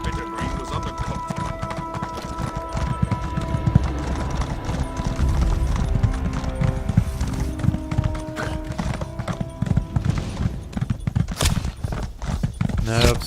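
Horse hooves clip-clopping at a steady pace during a ride in The Elder Scrolls Online, a constant rhythmic beat with game music underneath and someone talking over it.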